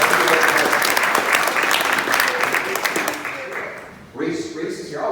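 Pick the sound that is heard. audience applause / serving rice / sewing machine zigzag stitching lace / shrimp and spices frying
audience applause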